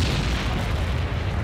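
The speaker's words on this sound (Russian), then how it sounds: "На позиции немецких пушек обрушился град снарядов." An artillery barrage pounds German gun positions in a continuous, dense rumble of heavy booms and blasts that stays loud and steady throughout.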